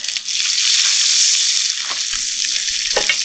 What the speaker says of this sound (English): You can hear the sizzle to it, so it's got a lot of heat in it.